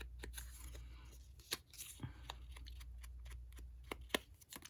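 Paper flap being folded down by hand while making a Christmas craft treat holder, a soft run of crisp creases and rustles with a few sharper clicks, close and fairly quiet, no talking.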